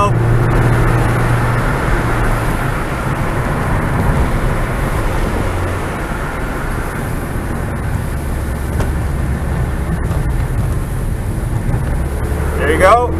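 A Ford Fiesta ST engine drones steadily on a race circuit, a loud continuous cabin-heard hum with wind rush, and someone speaks over it at points.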